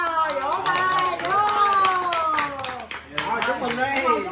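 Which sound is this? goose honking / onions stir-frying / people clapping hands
people clapping hands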